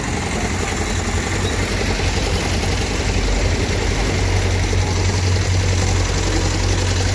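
Rosalia Indah bus engine idling with the rear hood open, a steady low rumble with a constant drone that holds evenly throughout, loud and close.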